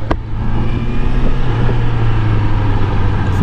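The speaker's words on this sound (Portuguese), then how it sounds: "Estamos no giro alto agora." A 2018 Honda CBR650F motorcycle engine held at high revs during a test ride at CETH Recife: a steady, loud, droning engine note runs unbroken for the whole stretch, with no talking.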